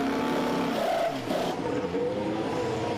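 A McLaren Formula 1 car at Bahrain pre-season testing roars as it comes into the pits, a loud sustained high engine note that shifts pitch as it slows, with crowd and track ambience behind.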